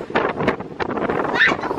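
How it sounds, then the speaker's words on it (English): Strong wind at the beach, gusting in loud, uneven buffets across the microphone for a couple of seconds with no speech. "It's so windy."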